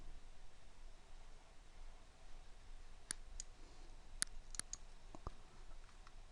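A computer mouse clicks a handful of times, sharp and faint, in short irregular taps against a quiet, hissy room background with no talking.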